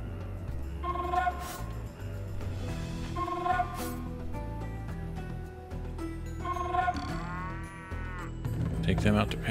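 Cattle in the Age of Empires II: Definitive Edition strategy game moo repeatedly in short game sound effects, layered over background game music and ambient effects.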